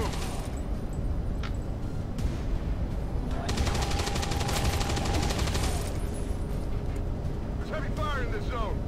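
Rapid bursts of gunfire and explosions in the video game XCOM 2 Long War 2, dense and loud throughout, with heavy automatic fire in the middle stretch.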